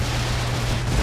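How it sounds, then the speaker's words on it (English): Explosions in the video game Broforce, a dense, continuous roar of blasts with a heavy low rumble and crackling debris, loud and close throughout. "Explosions!"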